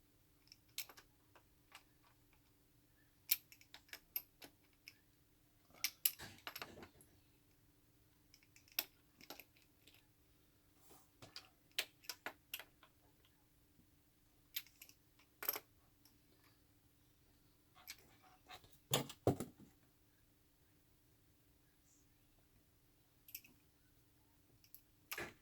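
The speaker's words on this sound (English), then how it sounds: "I am going to tighten these nuts" Nuts on bass guitar tuning machines being tightened with a tool, sparse quiet clicks and scraping ticks in short clusters against near silence, close up.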